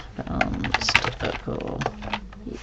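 Someone types on a computer keyboard in quick irregular clatters of keystrokes, close by, with speech partly overlapping.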